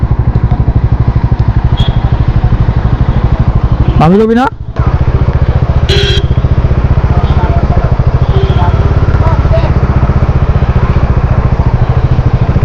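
A motorcycle engine idles steadily close by, a constant low throbbing under the whole stretch, while people talk over it.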